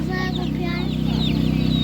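Chicks at an animal market cheep in rapid, high, overlapping peeps, close and continuous over a steady low hum of the market.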